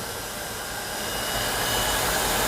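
A Jisulife Sun Life 1 umbrella fan runs at top speed, producing a loud, steady, close-up rushing hum like a hair dryer that swells slightly and then holds constant.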